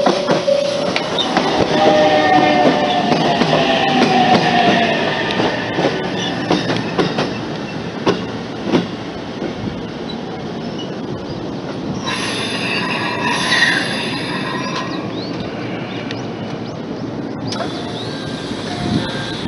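Three-car Iida Line passenger train of the 313 series 1700 subseries arriving at a station, a loud continuous rumble of wheels on rails with sustained high-pitched wheel squeal through the middle, no voices.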